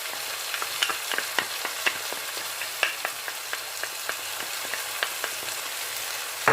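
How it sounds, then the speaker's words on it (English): Tomatoes with turmeric fry in a pan for chicken curry, a steady soft sizzle broken by scattered crackles and the scrape of stirring, close and moderately quiet with no talking. "And then mix it and fry till the tomatoes are soft."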